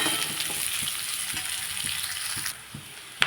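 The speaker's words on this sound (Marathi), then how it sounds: "कांद्यांना मी आता थोडंसं परतून घेते" Chopped onions sautéing in a pan for a bitter gourd vegetable dish, a soft continuous sizzle broken by regular stirring scrapes roughly every third of a second, close and fairly quiet, with no voices.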